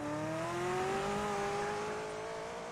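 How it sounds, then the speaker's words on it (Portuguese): A car engine hums steadily with a slowly rising tone, close and moderately loud throughout, with no talk over it. "Foda-se lá o barulho do carro."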